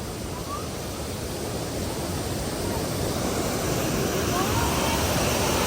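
Laxapana waterfall in Sri Lanka, heard from the top, gives a steady, loud, close roar of rushing water that swells slightly toward the end, with no clear speech.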